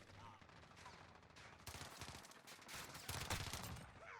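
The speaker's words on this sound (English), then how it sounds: "Why are you shooting me through the wall?" Gunfire in the Modern Warfare video game, several rapid bursts of shots from an akimbo M19 pistol setup at a moderate distance, growing denser and louder toward the end.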